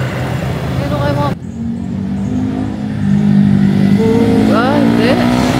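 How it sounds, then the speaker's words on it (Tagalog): A motorcycle engine revs loudly nearby, rising and falling in pitch, with a voice speaking briefly over the rumble. "Maingay lang yung motor niya."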